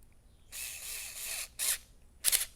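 A cordless screw gun drives a screw into a servo winch plate on a TRX-4 Sport RC truck, one sustained whir followed by two short, sharp bursts as it tightens, close and alone.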